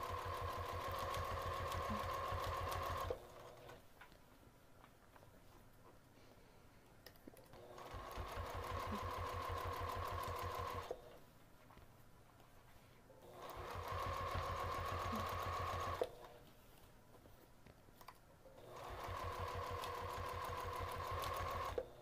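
A sewing machine stitches fabric in close, steady bursts, running for a few seconds at a time with quieter pauses between the runs, four runs in all.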